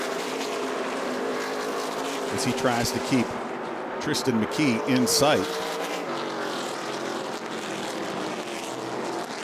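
Stock race cars roar through laps at Hickory Motor Speedway in an ARCA Menards Series East race, engines droning loudly and steadily with pitch sweeps as cars pass, under continuous commentary.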